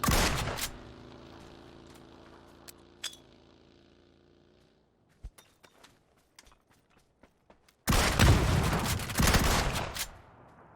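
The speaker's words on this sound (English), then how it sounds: "You shooting a P90? I think that was a P90." Rapid P90 submachine gun fire in PUBG on console, a dense burst of shots opening the passage, then scattered single cracks and thuds, and a second loud sustained volley near the end.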